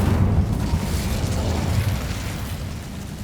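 A fire spell, Incendio, cast in the Hogwarts Legacy video game during a spider fight in a cave: a loud, rumbling whoosh with a deep, sustained roar that fades slightly over a few seconds.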